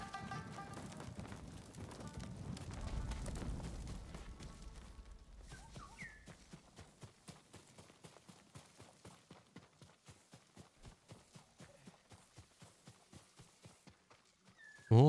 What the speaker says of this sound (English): Horse run over there.